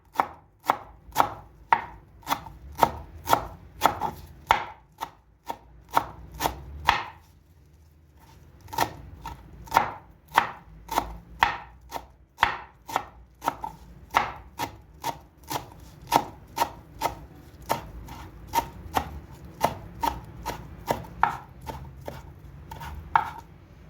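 Rapid, regular knife chops through parsley tap against a board for a long stretch, pausing once briefly before resuming at the same brisk pace, close and alone.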